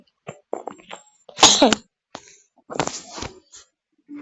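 Several harsh coughs or sneeze-like bursts from a person playing a game, irregular and close, with the strongest burst near the middle and more scattered rough sounds later, alone without talk.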